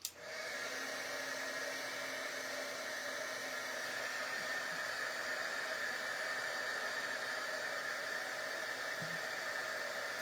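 Heat tool blowing a steady, close, airy whoosh to melt gold embossing powder on a star for a card, running evenly throughout without speech.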